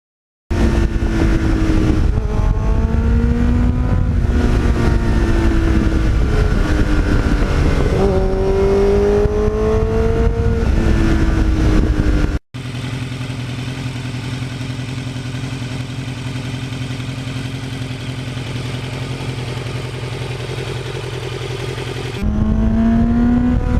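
A 1989 Kawasaki GPX750R motorcycle engine with a Muzzy muffler, loud and close, revving repeatedly with rising and falling pitch, then settling into a steady high drone before picking up again at the end.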